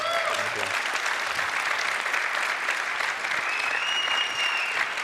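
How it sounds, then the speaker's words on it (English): An audience at a developer conference keynote gives a sustained round of applause for a panel, a dense even wash of many hands with a faint voice over it briefly. "Please join me in giving them a round of applause."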